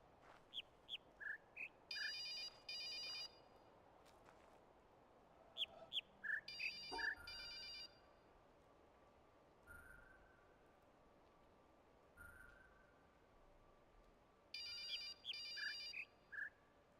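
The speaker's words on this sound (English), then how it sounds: "The phone is ringing." A telephone rings in the video game The Witness, sounding as repeated electronic trilling bursts in three clusters several seconds apart over a quiet ambient background, with a few chirpy tones between rings.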